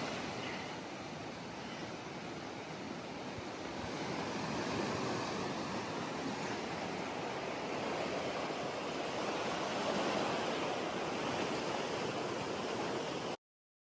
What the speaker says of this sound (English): I see another waterfall over there, or at least a tumbling river.